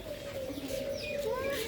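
Peacock pigeons in a large bird aviary give soft, low cooing calls against a busy background of other birds chirping, with a faint voice nearby.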